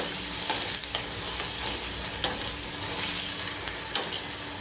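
Vegetable kolhapuri cooks in hot oil in a pan as it is stirred and mixed after salt goes in. Continuous sizzling carries scattered scraping clicks of the spoon against the pan, close and without voices.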